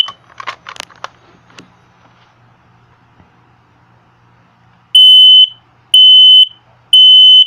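A Kidde KN-COSM-IB combination smoke and carbon monoxide alarm starts after a few seconds of handling clatter and quiet room tone, then sounds three loud, shrill, evenly spaced beeps close by.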